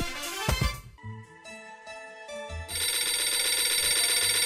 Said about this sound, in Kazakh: Телефон шыр етеді.